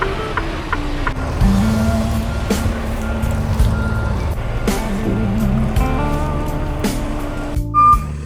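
Shunting truck reversing at a warehouse yard in Canada, its backup alarm beeping in an even repeated rhythm over a rumbling diesel engine, with a brief air-brake hiss near the end.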